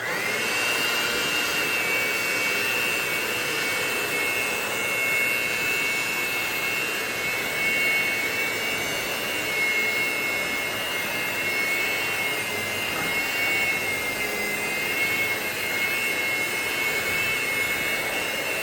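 Electric hand mixer whirring steadily through mini spice cake batter, a loud, continuous motor drone with a faint whine, running alone without a break.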